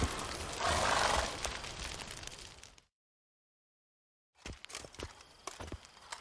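Hooves of Geralt's horse Roach from The Witcher 3 clop and thud on the ground, a muffled rumbling gallop first, then a short silence, then looser hoof strikes at moderate distance.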